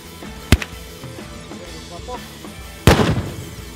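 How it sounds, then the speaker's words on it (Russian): Two sharp blasts from an LCG-150 flash-bang stun grenade at an outdoor police training ground, the first a short crack and the second louder with a ringing tail, over low background noise. "Сейчас в данном случае у вас светозвуковая граната, называется"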